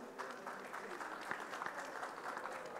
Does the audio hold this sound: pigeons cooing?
no